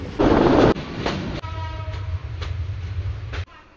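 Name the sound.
passing train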